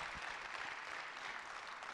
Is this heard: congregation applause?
yes